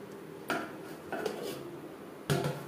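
A lid set over a bowl of chocolate cake batter on the stove, giving three distinct metallic clanks, the last loudest, over a low steady hum.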